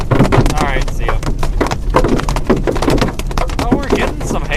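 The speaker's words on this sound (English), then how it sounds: "It's really soft hail. You can hear how it's clunking instead of like bang." Soft hail clunking on a storm chaser's vehicle during a Texas severe storm, dense irregular knocks and taps close by, mixed with a voice talking over them.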